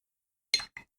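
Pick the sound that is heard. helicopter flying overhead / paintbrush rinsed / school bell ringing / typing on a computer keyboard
paintbrush rinsed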